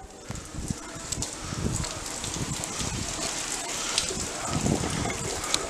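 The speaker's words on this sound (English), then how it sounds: "So much rain." Heavy rain pouring steadily in an outdoor setting, a dense continuous hiss with scattered louder patters and splashes, close and unbroken throughout.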